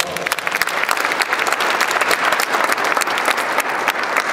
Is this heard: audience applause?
yes